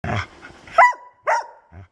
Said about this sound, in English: and piercing alert barks.